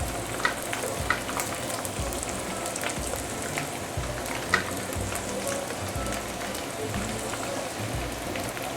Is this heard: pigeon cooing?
no